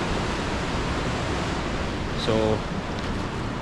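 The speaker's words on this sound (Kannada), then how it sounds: "ಇಟ್ಸ್ ರೈನಿಂಗ್ ಅಂದರೆ ಅಷ್ಟು ಜೋರಾಗೇನು ಮಳೆ ಆಗ್ತಾಯಿಲ್ಲ, ಕಡಿಮೆ ಮಳೆ" Light rain falls on the Everest Base Camp trek as a steady, dense hiss filling the whole span, with a voice briefly speaking over it.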